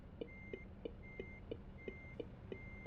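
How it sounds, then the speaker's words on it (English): The turn signal of a truck in Euro Truck Simulator 2 ticks quietly at a steady rhythm, about three clicks per second, with faint tonal beeps between the clicks and no voices. "So, blinker on."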